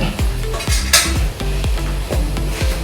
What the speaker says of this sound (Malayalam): നമുക്കിനി ഇത് ഉരുളിക്കകത്തോട്ടിട്ട് നമുക്കിത് വറക്കാം